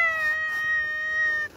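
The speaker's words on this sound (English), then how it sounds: "now some meows are starting because I'm outside with him" A cat outdoors on vaccination day lets out one long, drawn-out, worried meow, loud and close, holding a steady pitch before trailing off.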